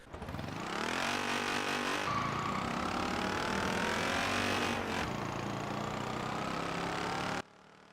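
A Peel P50 microcar accelerates in Forza Horizon 4, its small engine revving in a loud, rising whine that climbs steadily, drops at gear changes and then cuts off sharply near the end.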